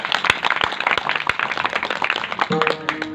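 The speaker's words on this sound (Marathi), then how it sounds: "म्हणून गोड तुम्ही त्यांच्यासाठी एकदा जोरदार टाळी वाजवा" An audience at a devotional kirtan gathering claps loudly and densely for about three seconds, with dense overlapping hand claps close by and a brief tonal sound near the end.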